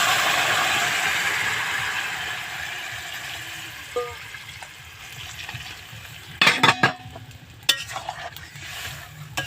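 Water poured into broccoli curry cooking in a pan: a steady sizzle fades as the liquid settles, then a few sharp clanks and scrapes of utensils against the pan, with no talking.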